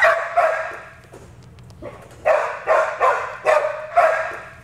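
A detection dog searching cargo at the Port of Lübeck barks close by in a run of five or six sharp, evenly spaced barks after a few quieter yips and whines.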